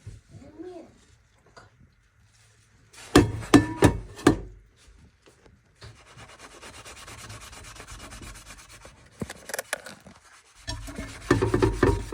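Scrubbing burnt-on chicken and egg residue from a Saladmaster stainless steel pan: bursts of harsh rubbing and scraping, close and fairly loud, broken by pauses and a quieter stretch of steady scouring.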